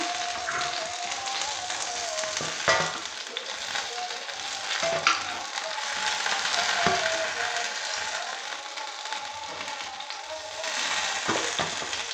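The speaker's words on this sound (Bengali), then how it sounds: "এইভাবে আমি সবগুলো ভেজে নেব" Mushroom pakoras fry in hot oil in a pan, a loud continuous sizzle with occasional clinks and scrapes as pieces are moved and lifted out.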